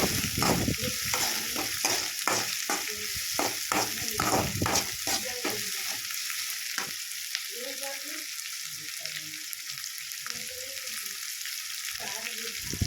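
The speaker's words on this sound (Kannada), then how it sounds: "ಹಸಿಮೆಣ್ಸಿನ್ಕಾಯಿ ಹಾಕ್ಕೊಂಡು ಇದನ್ನು ಚೆನ್ನಾಗಿ ಫ್ರೈ ಮಾಡ್ಕೋಬೇಕು" Green chillies fry in a pan with a steady oily sizzle close by. A utensil scrapes and clatters rapidly against the pan through the first half, then stirs only now and then.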